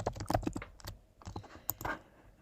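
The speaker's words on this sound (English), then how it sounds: "I'm going to click T on my keyboard and I'm going to type" Quick bursts of keystrokes on a computer keyboard, close and clear, with irregular clicks clustered in short runs and brief pauses between them in a quiet room.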